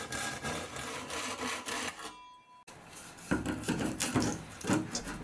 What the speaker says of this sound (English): I start cutting new plywood pieces.